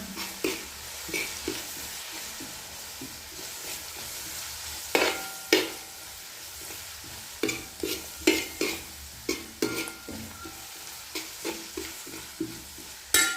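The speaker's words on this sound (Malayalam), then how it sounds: "അപ്പം മഞ്ഞളിട്ട് നമുക്ക് നന്നായിട്ട് ഇളക്കാം" Onions and turmeric stirred in a hot pan for chicken curry, a continuous sizzle broken by a dozen or so scraping, clacking spatula strokes at an uneven rhythm, close up with no speech.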